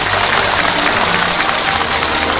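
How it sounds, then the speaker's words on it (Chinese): An audience at a military camp concert applauds, a dense, loud, sustained patter of clapping that continues evenly for the whole stretch. "我们再次把掌声送给胜俊"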